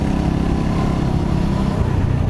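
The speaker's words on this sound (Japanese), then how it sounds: "エンジンがガラガラ言ってる。" A Mutt Motorcycles DRK rides along a road near Hakone, its engine giving a loud, continuous rattling drone up close, mixed with rushing wind noise and no break in the sound.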